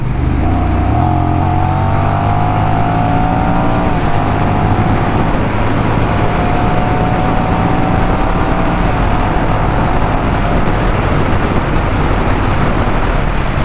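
A 2021 Honda Rebel 1100 DCT motorcycle engine roars steadily at top speed, a loud continuous drone with rising harmonic whine and heavy wind rumble throughout.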